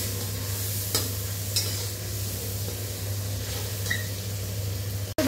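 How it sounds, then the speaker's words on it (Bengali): Spice paste cooking down in oil in a pan makes a low continuous sizzle with a few sharp stirring scrapes, over a constant low hum, ending in an abrupt clatter. "এটাকে একটু তেল ছাড়া অবধি 2-5 মিনিট কষিয়ে নেব।"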